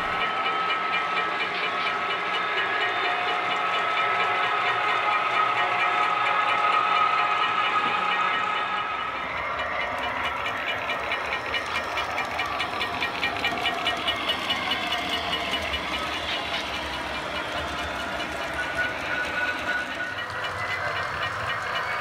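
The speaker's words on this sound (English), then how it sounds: "As you see the train traversing over the track that it just went to" An HO scale model train runs along the track of a large club layout, giving a steady close rolling rumble and a rhythmic clicking of wheels over rail joints that eases and thins out partway through.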